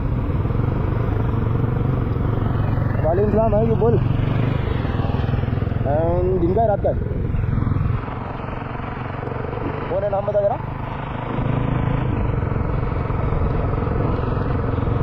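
A motorcycle rides along the road to Igatpuri with a group, its engine and wind drone running steadily beneath someone talking on the phone, easing briefly midway.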